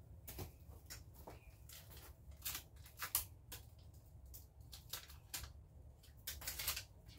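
Scissors cut bubble wrap for greenhouse insulation: quiet snipping and crisp paper-like clicks come in a loose, irregular series, close by, with no talking.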